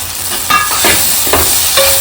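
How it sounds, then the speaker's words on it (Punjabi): Vegetables with fenugreek roast in a hot pan while a spoon stirs them, giving a steady sizzle broken by several scraping strokes, close and loud. "ਇਹਨੂੰ ਚੰਗੀ ਤਰ੍ਹਾਂ ਭੁੰਨ ਲਾਂਗੇ ਦੋ ਤਿੰਨ ਮਿੰਟ ਤੱਕ"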